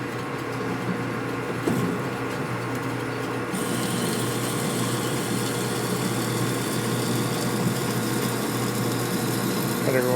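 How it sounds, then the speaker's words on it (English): A power drill whines continuously as it bores a hole through a sensor during a 1965 Harley panhead four-speed transmission rebuild, a steady close mechanical hum with a brief pitch change partway and people talking faintly. "You're drilling a hole in a bacon sensor."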